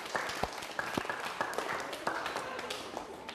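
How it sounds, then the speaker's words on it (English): An audience claps at a Hamilton civic event, a fairly faint, loose patter of hand claps with a few sharper individual claps standing out, no voices over it. "Give yourselves a clap."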